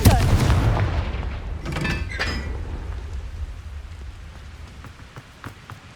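Confringo fire spell blasting in Hogwarts Legacy, a loud burst of explosive booms at the start, then crackling impacts fading into a lingering rumble.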